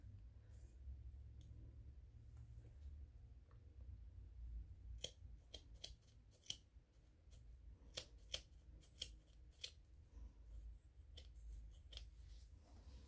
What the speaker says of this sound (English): you twist one time and you cut straight across